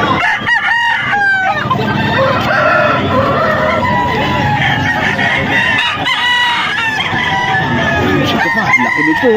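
Several roosters crow loudly and overlap, with hens clucking throughout in a noisy, crowded coop.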